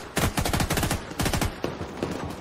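Rapid automatic gunfire in The Division 2, two loud close bursts of quick shots separated by a short pause, with a few trailing shots after, no talking over it.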